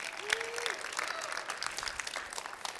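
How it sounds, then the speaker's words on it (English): An audience at a floral design competition gives a round of applause, moderately distant steady clapping with a faint voice briefly heard over it. "Great round of applause."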